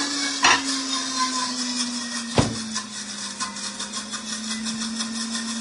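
A blender whirs steadily while making Hollandaise sauce for eggs Benedict, its motor hum interrupted by two sharp knocks near the start.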